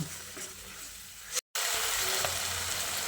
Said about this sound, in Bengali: এবার টমেটো পেস্টটা দিয়ে পেঁয়াজের সঙ্গে খুব ভালো করে মিশিয়ে নিচ্ছি।